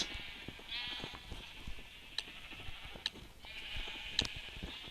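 Sheep bleat repeatedly in the Minecraft video game, several drawn-out bleats spaced across the stretch over a faint background hum, with a few sharp clicks in between.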